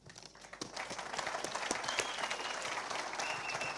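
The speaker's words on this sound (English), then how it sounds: "please give a huge round of applause for Craig Kelly" Audience clapping for a speaker, Craig Kelly, at an event, starting from scattered claps and quickly building into sustained, fairly distant applause.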